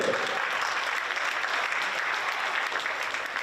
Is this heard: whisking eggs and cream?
no